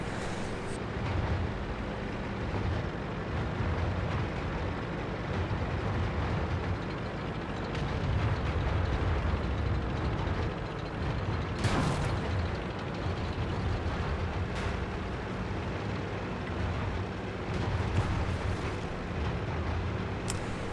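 A Panzer IV tank cannon fires in a tank battle game, one sharp blast about midway through a long stretch of low, constant engine rumble and battlefield noise.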